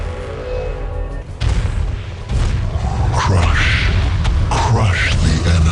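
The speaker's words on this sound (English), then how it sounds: "We are under enemy fire." Enemy fire and explosions in Warhammer 40,000: Dawn of War – Soul Storm, with heavy booms and crashing impacts thudding close and loud in quick succession, with battle chatter from voiced units over the din.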